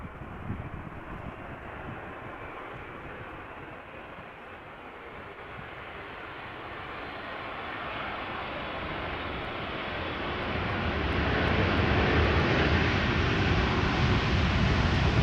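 Aircraft at Amsterdam Schiphol Airport, a broad jet roar that swells gradually from moderate to loud as it draws nearer, continuous with no talk.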